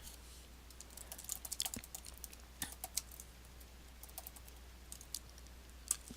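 Keywords typed on a computer keyboard, a quiet run of light, irregular key clicks in bursts with short pauses, faint and close with no talking.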